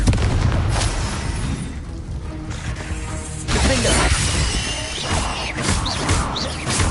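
Confringo fire spell blasts in Hogwarts Legacy, a series of loud explosive booms and crashes amid dense game combat noise and background music, bursts recurring across several seconds.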